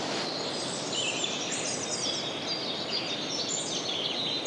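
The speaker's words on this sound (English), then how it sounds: "Just listen to that bird song." Birdsong outdoors in late winter as spring approaches, several birds chirping and trilling in overlapping high phrases over a soft steady background, moderately close and continuous, no voices.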